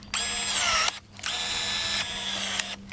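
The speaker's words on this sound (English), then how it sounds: "We're pruning some drooping pin oak here?" Ryobi One+ cordless pruning shear cutting drooping pin oak branches, two close, steady high-pitched motor whines, each about a second long, separated by short pauses.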